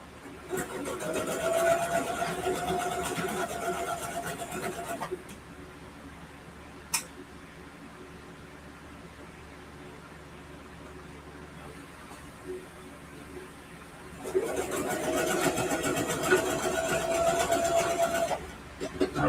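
A home sewing machine stitches a quilted backpack in two bursts of steady, rapid motor-driven stitching, each lasting several seconds and separated by a long quiet pause with small handling noises, close and clear.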